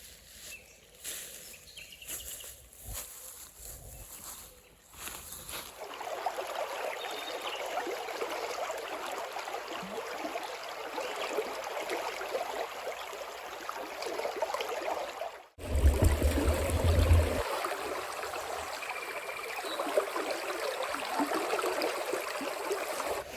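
Steady rush and trickle of stream water flowing over rocks outdoors on a country property, continuous and fairly close, with a brief louder surge partway through and no talking.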